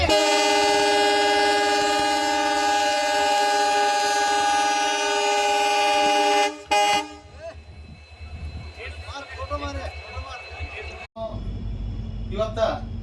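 A safety inspection train at Lokapur railway station blares a loud, sustained horn for several seconds, then cuts off into rumbling rail noise with people talking close by.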